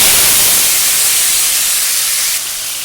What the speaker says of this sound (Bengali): দেখো গরম হয়ে গেছে আমি এই সেই সবজিগুলো সব আগে ছেড়ে দিই